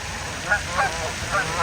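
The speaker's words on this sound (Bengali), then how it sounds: "এই যে পাখিগুলো ডাকাডাকি করছে" Geese honk a few times at moderate distance on a pond in America over a steady outdoor background hiss, the calls short and spaced apart.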